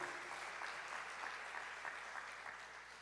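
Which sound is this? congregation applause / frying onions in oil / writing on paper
congregation applause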